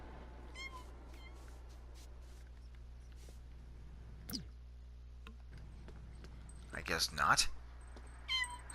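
Meows from a cat in The Sims 4 come through as brief, fairly faint cries and a louder burst near the end, mixed with game sounds while a person talks over the gameplay.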